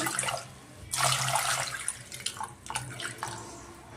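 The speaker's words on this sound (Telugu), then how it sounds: "ఇప్పుడు వాటర్ పోసుకున్నాము" Water splashes and runs in bursts, close by, with short pauses between pours and a few drips; no talking.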